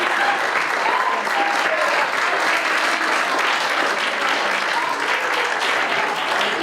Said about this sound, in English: give yourselves a nice round of applause for being here today